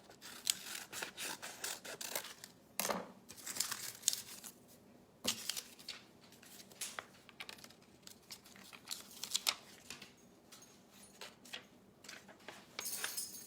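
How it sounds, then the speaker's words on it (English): Scissors trim around a butterfly furniture transfer sheet, close and quiet, with a series of crisp snips and soft crinkling paper rustles spread out over several seconds. "I'm going to trim it up a little more so I can place it exactly where I want it"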